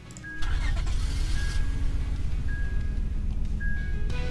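Car engine starting in the Roblox game Greenville: a short crank followed by the engine catching and settling into a loud, steady low idle rumble, heard close and alone with a faint high tone chiming intermittently.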